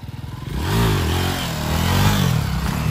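Honda Sahara 300 motorcycle being ridden, its engine close and loud as it revs up into a rising, buzzing pull before settling into a steady throaty drone, with no voices.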